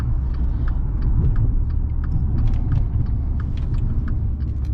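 A 2017 Maserati Quattroporte SQ4 AWD with 404 hp accelerates on a road at about half throttle, a dense, steady low rumble heard close from inside the cabin with no talk.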